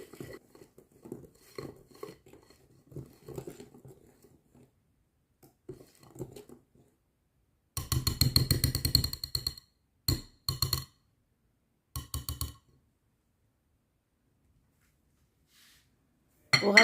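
Semolina is stirred in a bowl for harcha dough: a spoon clinks and scrapes against the bowl in a few brisk bursts after soft scattered taps, with long quiet gaps between.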